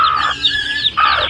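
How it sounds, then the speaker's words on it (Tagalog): Mother hen on a Philippine backyard farm with newly hatched chicks, giving close, loud clucks and calls in two bursts with a short quieter gap between. "kunin muna natin yung inahin para makita natin yung mga sisiw"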